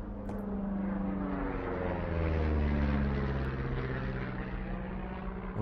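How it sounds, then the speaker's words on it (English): Propeller aircraft in the video game Firewatch passing overhead, a steady droning engine hum that swells toward the middle and fades slightly, continuous and fairly loud with no talking. "See that plane?"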